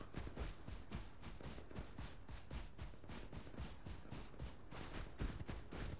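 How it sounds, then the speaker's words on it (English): Rapid bursts of video game gunfire crackle in a dense, continuous stream, sounding somewhat distant and muffled with no voices. "But I can hear gunfire."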